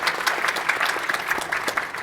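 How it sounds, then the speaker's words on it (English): A plenary audience at a national mentoring summit applauds, a brisk continuous patter of many clapping hands heard from within the room, steady for a couple of seconds. "give them a round of applause."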